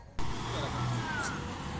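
A car carries a player away from the Continassa training ground, a steady soft road rumble starting abruptly and continuing at low volume, with a faint voice.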